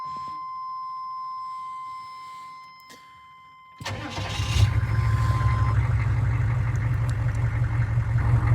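A GM 6.5 diesel engine starts after a dashboard chime and a quiet pause, cranking briefly and then settling into a loud, rough, steady idle close by.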